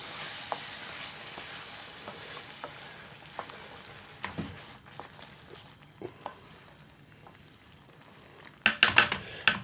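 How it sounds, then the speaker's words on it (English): Tomato-rich tikka masala sauce in British Indian restaurant style, gently bubbling and sizzling in a pan at low volume, with scattered spoon scrapes and a sharp burst of metal clatter near the end. "So let's give that a good stir."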